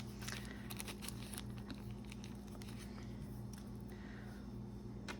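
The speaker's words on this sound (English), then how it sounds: "Let me take it out of the little plastic bag." A button is eased out of a little plastic bag with soft crinkling and rustling pops close by, quiet over a low steady hum.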